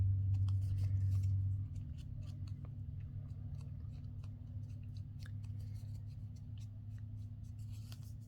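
Scissors cut out a paper craft piece in a quiet room, a series of small close snips and paper rustles over a low steady hum, with no talking.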